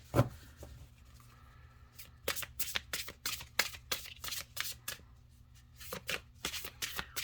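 A large oracle card deck being handled and shuffled, sharp riffling bursts and papery flicks coming in quick clusters with short pauses, close and clear.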